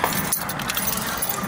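Keys jingle and clink close by in a short, continuous rattle over a background hum.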